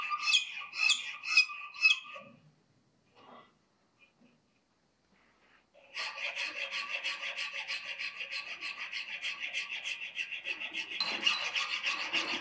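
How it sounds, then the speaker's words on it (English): Hand files rasp over rough edges of knife handle material, first in four quick separate strokes, then after a pause in a long run of rapid, even back-and-forth strokes, close and clear. "I'm cleaning up the rough edges with hand files."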